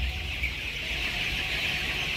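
Young colour bird chickens, 22 days old, clucking on a farm, a steady close flock murmur over continuous background noise with no talk.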